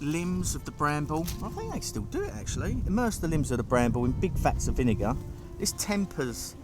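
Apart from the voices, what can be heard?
None of the usual background noises is heard.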